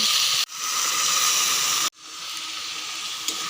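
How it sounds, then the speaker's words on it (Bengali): Potatoes and chopped onions frying in oil, making a steady, loud hiss broken by two abrupt cuts, each followed by the sizzle swelling back up. "আলুগুলোকে দিয়ে দেবো পেঁয়াজের মধ্যে দিয়ে একটু ভেজে নেব"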